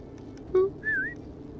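In the video game Falcon Age, a person whistles to call a falcon. First comes a short low note, then a clear higher whistle that dips and rises again. Both are close and brief, over quiet ambience.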